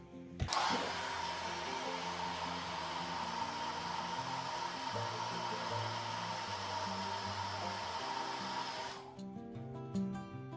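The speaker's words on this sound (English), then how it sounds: "gonna use my hair dryer a little bit to loosen up and help me remove the pan." A hair dryer, used to loosen a cheesecake from its pan, switches on and blows with a steady, loud whirring hum for several seconds, then cuts off abruptly.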